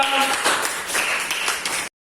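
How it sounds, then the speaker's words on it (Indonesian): Applause from a classroom of students cheering a group after its presentation, a brief burst of dense hand claps filling the room and cutting off abruptly, with some voices mixed in. "tepuk tangan untuk kelompok 2."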